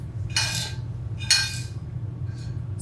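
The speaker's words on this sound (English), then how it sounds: "Just gonna scrape what I've got left in this pan." A spoon scrapes across a pan used for crispy-skin salmon in two distinct, bright scraping strokes, close and clear, followed by a fainter third scrape, with no talking.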